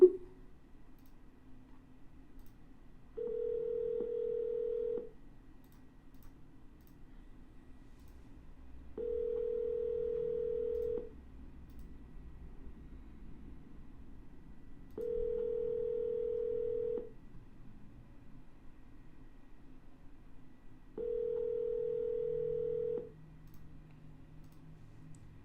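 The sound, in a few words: telephone dial tone after double dialing a call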